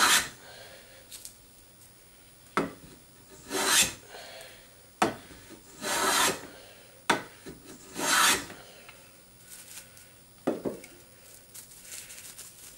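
A hand plane shaves black walnut in a series of about seven separate rasping strokes, each a short broadband swish, some sharp and some longer, with quiet pauses between them, heard close and alone.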